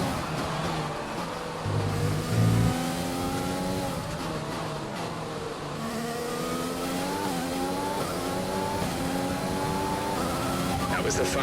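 F1 car in F1 2020 at Abu Dhabi, its engine revving and accelerating through repeated gear changes with rising and falling pitch, loud and steady, while someone talks over it.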